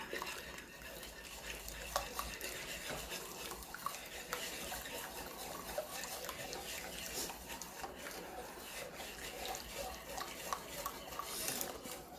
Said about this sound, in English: Give it another whisk